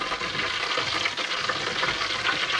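Battered cod deep fries in oil heated to 170 degrees, giving a continuous, close, loud sizzle with dense crackling bubbles throughout.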